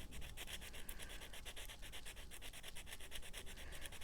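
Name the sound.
sandpaper rubbing metal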